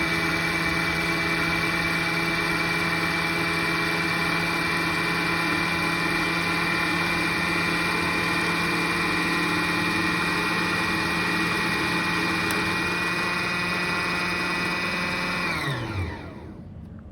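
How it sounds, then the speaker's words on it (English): A sewing machine winds a bobbin with a steady, unbroken motor whir that holds an even pitch for about fifteen seconds, then slows and winds down to a stop as the bobbin fills. "press your foot pedal to begin winding your bobbin"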